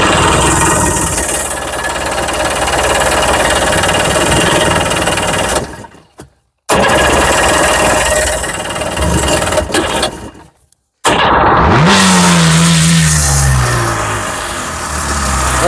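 A 2003 VW GTI engine starts and runs, a loud, steady rough idle that cuts out briefly twice before catching again and settling with a rising whine.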